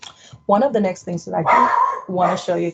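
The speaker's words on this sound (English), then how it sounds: "excuse my dogs" Dogs bark and yip repeatedly indoors, loud and close, in short bursts mixed with someone speaking over them.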